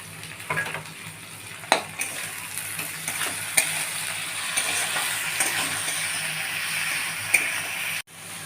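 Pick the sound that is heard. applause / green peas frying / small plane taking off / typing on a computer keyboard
green peas frying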